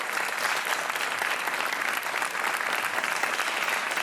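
A studio audience on a TV game show applauds in a dense, steady, loud burst of clapping that carries through without pause.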